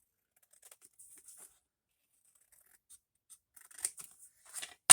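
Scissors snip paper during a papercraft project, a near-silent stretch broken by faint scattered clicks, then a few crisp cuts and a sharp snap at the very end.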